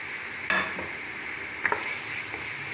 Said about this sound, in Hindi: इसको अच्छी तरह फ्राई करेंगे